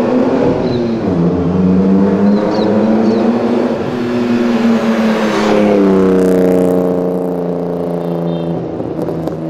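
A Mercedes drifting on a public street in Brazil, its engine loud and close as it revs and holds high, rising pitch for several seconds, with a sustained roar throughout.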